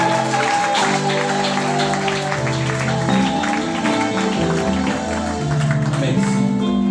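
A church congregation applauding in praise of the Lord, a steady, dense wash of clapping blended with sustained organ or keyboard chords and voices underneath.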